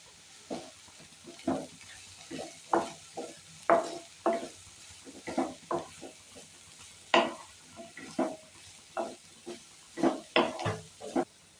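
Potato and capsicum fry in a pan with curry leaves while a spatula stirs them in regular scraping strokes over a soft, steady sizzle.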